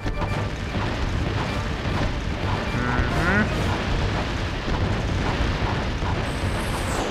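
Bomb glove explosions in the Ratchet & Clank boss fight on Planet Umbris, with repeated dull booms and bursts set in dense, continuous game noise.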